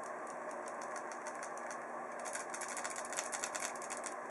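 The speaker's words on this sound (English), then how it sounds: "You can kind of hear the solenoid click" A trigger-operated gun's solenoid clicks in a rapid, even stream of small ticks that grow a bit louder and denser toward the end, alone over a low background hum.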